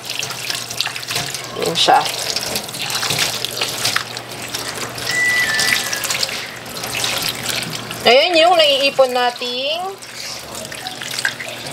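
A running water tap flows steadily while printer waste ink pad foam from an Epson L3110 is rinsed and squeezed, a continuous close splashing stream under a person's talking, with sharper gushes near the end.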